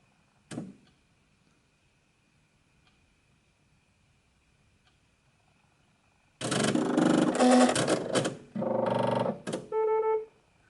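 Digital embroidery machine initialising after power-on: a single faint click, a long near-silent pause with a thin steady hum, then loud bursts of motor whirring and mechanical movement, ending in a short series of electronic beeps.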